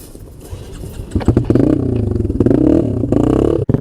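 Off-road motorcycle riding through sandy terrain, the engine revving up sharply after a quiet start and holding a loud, close, rough drone with clattering.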